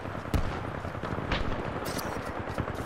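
Rapid gunfire from the Spitfire machine gun in a shooter video game, a dense continuous rattle of shots with a few sharper bursts standing out, loud and steady throughout.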